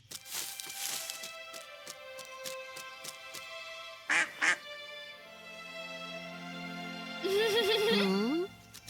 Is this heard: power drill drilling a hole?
no